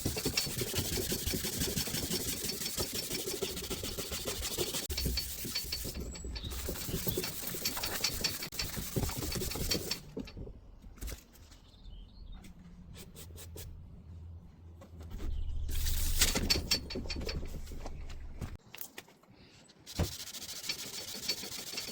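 Hand sanding car door paint with 800 grit sandpaper, continuous raspy rubbing strokes with short pauses and a quieter stretch midway, close and alone.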